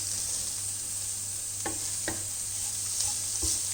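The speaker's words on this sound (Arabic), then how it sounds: "هانتوما تشوفوا راه تقلى شويه" Marinated cutlets fry in a pan with butter, giving a steady, close hiss of sizzling fat with a few light clicks and taps of a utensil over the top.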